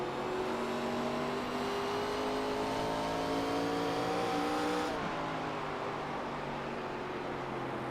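On-board race car engine during a race at IRP, a loud steady high-pitched roar that climbs in pitch, briefly drops with a shift, then holds under heavy wind noise.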